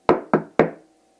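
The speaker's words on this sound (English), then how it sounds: "Hark, more knocking." Three loud, sharp knocks on a wooden door in a staged performance, evenly spaced and heard alone, each ringing briefly before the next.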